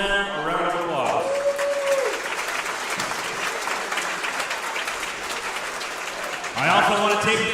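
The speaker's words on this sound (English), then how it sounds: "Let's then take a moment to give all of them a round of applause" Applause for the helpers at a wrestling tournament rises from a crowd, with clapping that swells, holds steady and fades between bursts of an announcer talking over a PA at the start and end.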